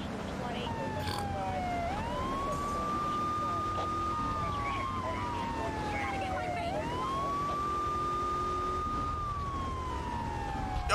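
Police car sirens wail in Grand Theft Auto III, a loud rising and falling tone sweeping up twice over a dense backdrop of game traffic and noise.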